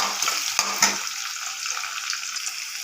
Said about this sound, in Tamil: இது நல்லா வதக்கலாம்.